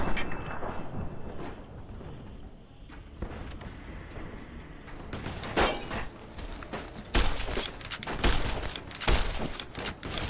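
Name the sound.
gunshots in the video game Fallout: New Vegas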